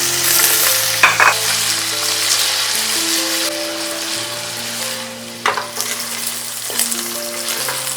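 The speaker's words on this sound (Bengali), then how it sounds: "এরপরে একে একে আমি পনিরগুলো হালকা করে ভেজে নেব।" Paneer pieces frying in ghee in a pan, a loud close steady sizzle with faint clinks of a utensil and soft music running underneath.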